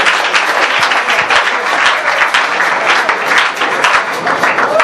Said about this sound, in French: Nous acclamons très fort.